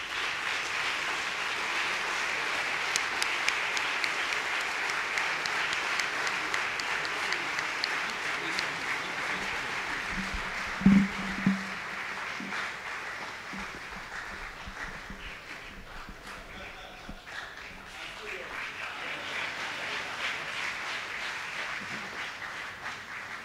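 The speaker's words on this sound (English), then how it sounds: "let us rise, and give him a round of applause as we welcome Professor Pat Utomi" An audience applauds at the 14th CVL annual lecture in Lagos as Professor Pat Utomi is welcomed, a dense, steady round of clapping lasting over twenty seconds with a brief sharper thump midway and faint voices underneath.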